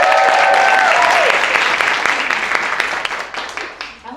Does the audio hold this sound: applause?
yes